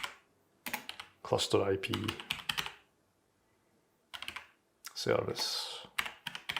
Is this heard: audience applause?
no